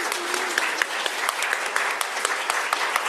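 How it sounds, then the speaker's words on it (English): Sustained applause from the audience at an artist and scholar panel in an art gallery, a dense steady patter of many hands clapping with a few sharper claps standing out, filling the room without talk. "I would like to kind of wrap it up with the round of applause for our"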